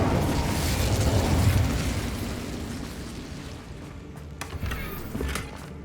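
A roaring, whooshing burst of the Incendio fire spell in Hogwarts Legacy, loud at first and then fading, followed by a few sharp clicks and thuds of combat.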